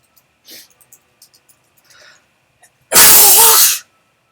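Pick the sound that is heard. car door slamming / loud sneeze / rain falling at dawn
loud sneeze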